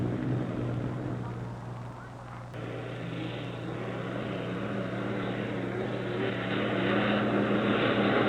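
A hydroplane race boat's engine roars steadily through a three-lap run at the 1964 Seafair time trials in Seattle, a broad sustained drone that holds loud and even, swelling slightly toward the end.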